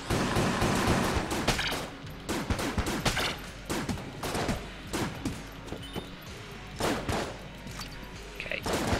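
Rapid volleys of gunfire from the video game Enter the Gungeon, loud and dense: sharp shots pile up in bursts with brief gaps throughout, and no voices are heard.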